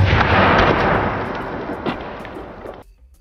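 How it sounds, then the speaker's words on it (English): A shotgun fires at an outdoor shooting range with a loud, close blast that rolls into a long, fading boom before it cuts off. "I mean someone shooting a shotgun."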